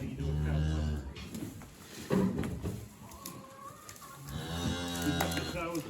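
A bull on a farm moos in several long, loud calls close by, with people talking between and over the lowing.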